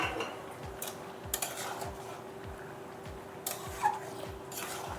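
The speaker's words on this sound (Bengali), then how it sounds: "বড়া দিয়ে আর একটু নেড়ে চেড়ে নিচ্ছি।" Fritters being stirred into a Bengali-style ridge gourd curry, with faint clinks of a utensil against the pan over a quiet, steady background; soft and sparse.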